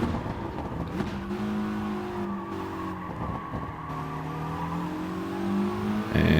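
Mitsubishi Lancer Evo race car in a racing video game at Tsukuba Circuit, its engine climbing steadily in pitch as it accelerates hard out of a corner, with faint tire noise and a brief gear change near the end, no talk.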